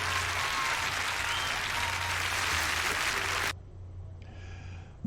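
Loud, dense audience applause after a song is sung, filling the room for several seconds before cutting off abruptly into near quiet, with a faint tonal sound afterward.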